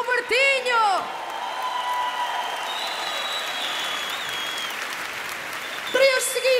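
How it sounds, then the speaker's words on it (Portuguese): A live concert crowd of Minhotos Marotos claps and cheers for two folk dancers, sustained applause with whoops, while an accordion-like melody opens and returns at the end. "A quem eu peço uma grande salva de palmas, Cátia Pereira e Walter São Martinho"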